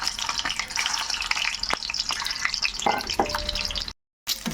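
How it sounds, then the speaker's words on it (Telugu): Boiled eggs frying lightly in a pan give a steady close sizzle with occasional crackles and stirring clinks, broken by a brief silent gap near the end. "కొంచెం లైట్గా వేపుకుందామండి గుడ్లు"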